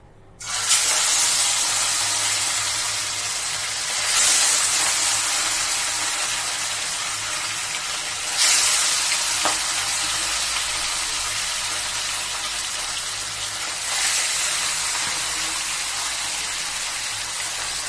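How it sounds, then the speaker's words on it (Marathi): Fish pieces coated with lemon, turmeric and salt fry in hot oil, giving a loud, continuous hissing sizzle. The sizzle swells in fresh bursts every few seconds as more pieces are added, and no one talks over it. "तेल अगदी छान गरम झालं आहे आपल्या फिशला मी लिंबू हळद आणि मीठ लावून ठेवलं होतं अर्धा तासापूर्वी चला तर आता पीस फ्राय करायला टाकूया"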